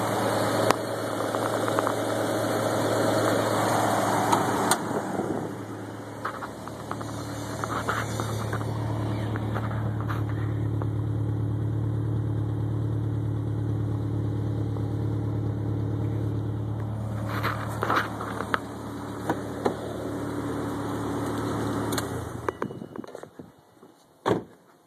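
A built 2002 Subaru WRX wagon with a 2.5L engine, six-speed and GT30 twin-scroll turbo idles steadily up close, a deep continuous rumble with a brief rise near the start and a few clicks toward the end.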